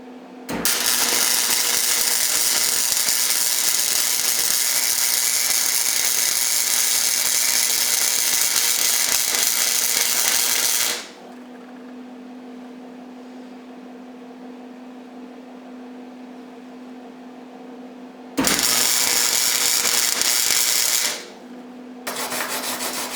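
A fresh weld on a beginner's steel square being brushed off, with harsh continuous scrubbing up close, then a quieter humming stretch and another short burst of brushing.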